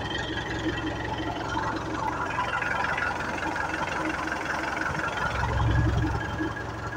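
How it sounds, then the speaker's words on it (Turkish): A tractor engine runs steadily while driving and working rows in a village field, a continuous low rumble with a slight swell near the end and no talk. "Evet, traktör sürüyor, sıra yapıyor."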